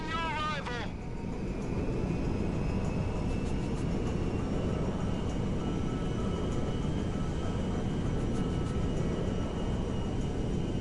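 Steady jet engine roar from the Merryweather jet in GTA 5, a continuous broadband drone that holds loud and unbroken throughout, with a faint whine above and voices talking briefly at the start.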